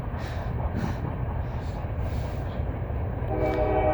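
A freight train rolls past close by, a steady heavy rumble of wagons on the rails, with a sustained horn tone rising near the end.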